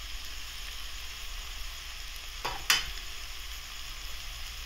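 Ponnaganti greens and moong dal frying in a pan, a soft continuous sizzle with one brief stir-and-scrape near the middle, quiet and close with no voices.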